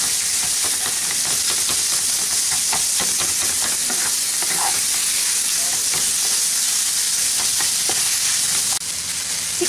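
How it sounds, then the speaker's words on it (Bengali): Minced chicken keema, about 200 grams and lightly blended, frying in a pan while being stirred, giving a dense continuous sizzle broken by frequent scraping strokes of the spatula. "চিকেনটাকে একটু সময় নিয়ে এভাবে একটু নেড়ে নিতে হবে, যাতে চিকেনটা ভালোভাবে সেদ্ধ হয়।"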